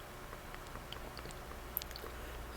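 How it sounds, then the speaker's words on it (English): Soft, irregular crunching and smacking of a dog eating, small wet bites and clicks close by over a low background hiss. "You can probably hear my dog munching on her food right now."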